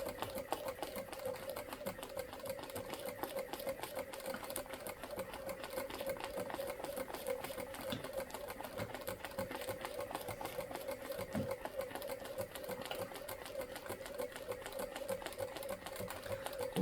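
A sewing machine stitches through painted fabric on a quilt storage box, a steady fast rattling hum with a faint repeated ticking, running evenly and fairly quietly throughout.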